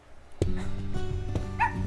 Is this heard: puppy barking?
yes